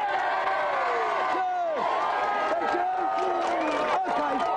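Studio audience cheering on a Christmas special of a video-game show, a loud sustained crowd of whoops and shouting voices with rising and falling yells, continuous throughout.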